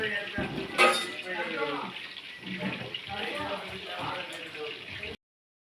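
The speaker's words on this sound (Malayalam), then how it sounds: "ചിക്കൻ ഇവിടുന്ന് പൊരിക്കുന്നുണ്ട്." Chicken and onions fry in hot oil while biryani masala is prepared, a steady close sizzle with soft bubbling that runs continuously beneath someone talking.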